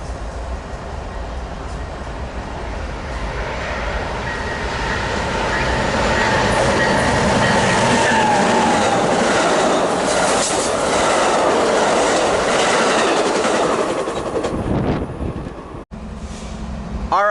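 Passenger train 774 bound for San Diego passing at Commerce, a loud sustained roar of wheels and rail clatter building over several seconds and then cutting off sharply near the end.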